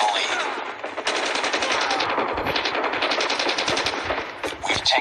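Rapid volleys of shotgun blasts ring out in the mobile shooter game COD Mobile. The shots come loud and close in quick, uneven bursts with almost no gap between them.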